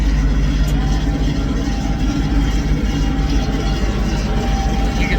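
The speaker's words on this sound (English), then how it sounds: "Turn my PTO on." A tractor runs its PTO to drive a manure spreader, giving a steady, loud low engine drone with rattling mechanical noise throughout and no clear changes.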